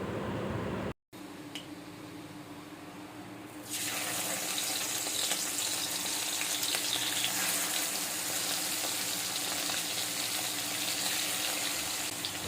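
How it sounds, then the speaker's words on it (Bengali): Tangra fish frying in a little oil in a wok for a homestyle fish curry with potatoes: a steady sizzling hiss that grows louder and fuller after a few seconds, then continues evenly with no talking. "ওই কড়াইতে খুব অল্প করে একটু তেল দিয়ে ট্যাংরা মাছগুলো ভেজে নেব"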